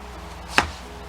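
A knife chops the top off a bell pepper in a single sharp thud on a cutting board, brief and close, in a quiet kitchen.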